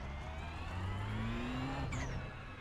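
A Ferrari GT3 car in the iRacing simulator at Circuito de Jerez brakes hard and downshifts toward second gear, the engine note stepping down through falling gear changes with a sharp blip near the end, loud and continuous.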